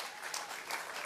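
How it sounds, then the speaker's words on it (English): A crowd gathered at a mall demolition event applauds, a soft, fairly distant patter of many hands clapping steadily for about a second. "she got way more applause than any of the politicians"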